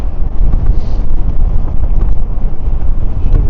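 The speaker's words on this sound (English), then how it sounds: "And we're going into the wind." Heavy wind buffets the microphone while an e-bike rides into a headwind, a loud, continuous low roar and rumble that fills the whole stretch with no clear speech.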